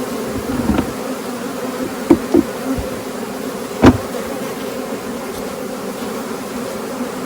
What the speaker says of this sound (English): Like I said, these are new bees. They're building up.